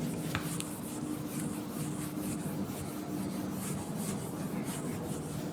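Steady scrubbing of an eraser wiping writing off a board, continuous close rubbing strokes without speech.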